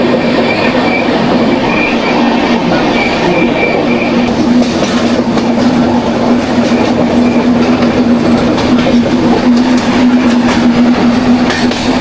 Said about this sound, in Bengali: ও ট্রেন দেখুন সাপের মতন বেগে যাচ্ছে